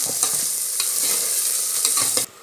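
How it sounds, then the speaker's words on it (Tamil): Crushed ginger and garlic sauté in hot oil in a pan for a chickpea curry, a steady close sizzle with scraping stirs throughout, cutting off abruptly near the end. "இப்போ இஞ்சி பூண்டு நல்லா வதக்க விட்டுடலாம்"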